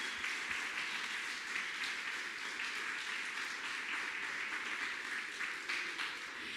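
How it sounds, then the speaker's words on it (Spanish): Church congregation applauding steadily, a dense wash of many hands clapping at even loudness throughout with no pauses and no voices standing out. "dale un aplauso a Jesús"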